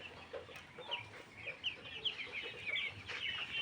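Forty-eight-day-old layer chickens, just given a coryza vaccine, cluck softly and repeatedly in a faint, scattered chorus with no voices over them.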